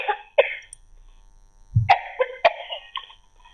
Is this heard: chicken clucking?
no